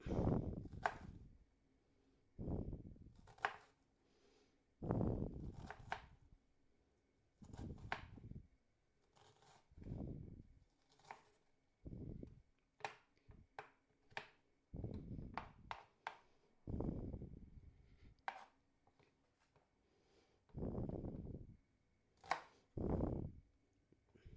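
Knife chopping food on a board while making lasagne, heard as bursts of rapid, fairly close thuds separated by short pauses, with no talk.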